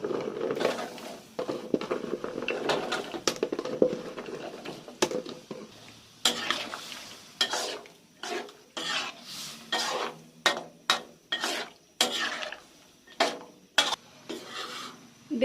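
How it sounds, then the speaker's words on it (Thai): Karanda fruit boils in syrup in a pot while being stirred, giving a series of soft scraping, clinking stir strokes against the pan. The strokes are near and fairly quiet and come in a steady, repeated rhythm. "เดือดแล้วก็คนไปเรื่อยๆนะคะ"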